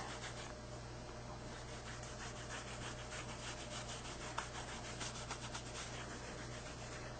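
Sponge lightly rubbed back and forth across a striped embossing folder, a steady soft scratchy swish that continues evenly throughout, close and without speech.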